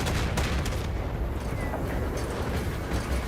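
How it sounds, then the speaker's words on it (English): Sustained burst-weapon gunfire in the vehicle combat game Crossout, a dense continuous roar of rapid shots and blasts filling the whole stretch without pause. "let me try to shoot from farther away so I can show you guys"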